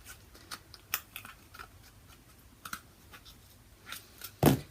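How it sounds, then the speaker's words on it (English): Scissors snipping a small section out of paper for a princess puppet's neck, heard as a few faint, scattered close-up snips, with one louder cut near the end. "just a tiny little cut down the way and a tiny little cut up the way to take out a little section like that"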